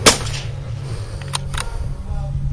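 A single sharp crack of a .22 shot shell fired from a Stevens rifle outdoors opens the moment, followed by a brief faint clatter and low background rumble.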